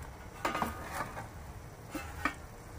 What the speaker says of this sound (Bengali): এবারে আধা ঘন্টা পরে আমি ঢাকনাটা খুলে আপনাদের দেখাচ্ছি।